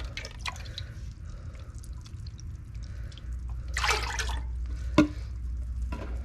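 Cold tap water running into dye pots, a low steady trickle with scattered drips and a brief splashing burst, fairly close.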